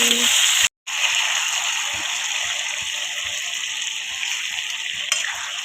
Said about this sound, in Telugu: ఇప్పుడు వేసేసాము ఎండిమిరపకాయలు అవన్నీ మొత్తము వేగిపోయాయి ఇప్పుడు గొంగర పచ్చడి వేస్తున్నాము